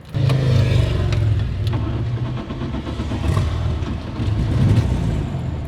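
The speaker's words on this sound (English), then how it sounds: "in order to restart the car, you have to pull the key all the way back" A Volkswagen Karmann Ghia euro hot rod engine restarting after stalling, a close, loud mid-pitched engine that turns over and revs, rising and falling in a few surges.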